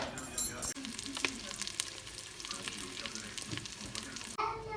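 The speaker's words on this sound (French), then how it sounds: "suer un oignon, 2 gousses d'ail avec du beurre dans le Cookéo en mode doré" Onion, two garlic cloves and butter sizzle in a Cookeo multicooker on browning mode, a close, steady frying hiss broken by scraping stirs and a few clicks.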